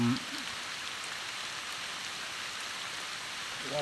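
Steady rain falls outdoors on a rural field in a new-season downpour, an even, continuous hiss of drops hitting the ground, with a brief voice at the start and end.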